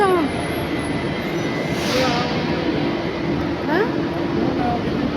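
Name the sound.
Delhi metro train at Supreme Court station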